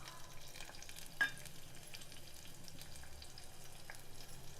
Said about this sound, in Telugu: ఒక 2 పచ్చిమిర్చి, ఒక పావు ముక్క ఆనియన్స్ సన్నగా తరుక్కొని వేసుకోవాలి